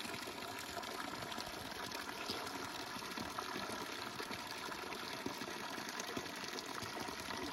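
Cold natural spring water gushes in a steady stream from a small outdoor spout, a continuous rushing splash that stays even throughout with no talking.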